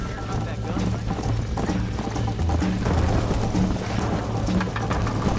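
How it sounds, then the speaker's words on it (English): Horse hooves clip-clopping at a gallop in the video game Red Dead Redemption, a steady rhythmic beat throughout under game music and other ambience, with voices talking over it. "You're gonna wear that horse out!"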